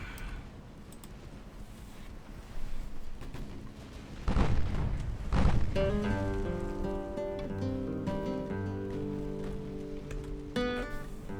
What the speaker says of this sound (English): fire all guns